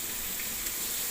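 Onion, green chili and curry leaves sizzling in hot oil for a beetroot stir-fry, a dense, even crackling hiss with no pauses, close and steady throughout.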